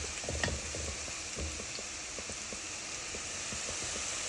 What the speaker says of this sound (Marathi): आपला कांदा अतिशय छान एकदम सोनेरी रंगावर फ्राय झालेला आहे.